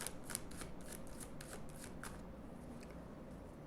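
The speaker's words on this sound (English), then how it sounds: "I'm going to give your cards a quick shuffle." Tarot cards being shuffled by hand: a quick burst of crisp riffling flicks, closely miked and fairly quiet, fading into soft low background noise.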